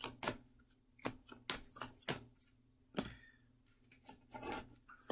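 Tarot cards are shuffled by hand, producing quiet, irregular taps and soft riffling clicks close by with brief gaps between.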